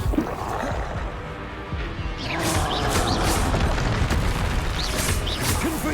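A Confringo blasting spell goes off in Hogwarts Legacy, a loud booming crash that swells into a sustained roar of layered impacts and rumble lasting several seconds.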